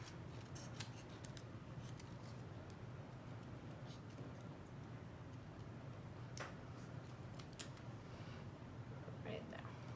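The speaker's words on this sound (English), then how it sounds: "So I'm going to cut part of it to create a figure right here." Scissors snip through paper to cut small shapes for a Matisse-style collage, a run of quick, irregular close-up cuts over a steady low background hum.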